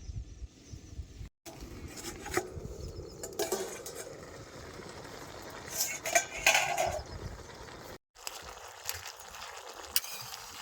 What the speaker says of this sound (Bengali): ঢাকনা সরাই দিম শাক হইল কিনা